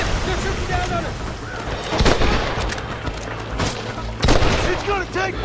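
Gunfire in a Red Dead Redemption shootout, several sharp loud shots at irregular intervals over a continuous dense battle din, with voices calling out throughout.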